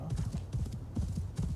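A horse gallops in the video game Assassin's Creed Valhalla, and its hooves strike in quick, rhythmic clip-clop beats, close and fairly loud, through a short burst of riding.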